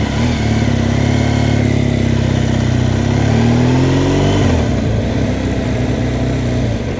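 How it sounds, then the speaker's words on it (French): An old truck rolls through a narrow street, its mid-pitched engine droning close and loud, rising slightly and then dropping in pitch as it passes by. "C'est un vieux camion."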